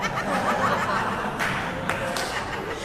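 An audience breaks into brief applause mixed with light chuckling, a short, moderately loud burst of scattered clapping with a couple of sharper claps near the end.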